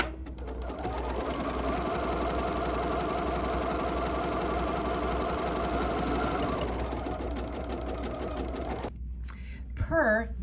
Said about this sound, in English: now let's just stitch our little drawstring markers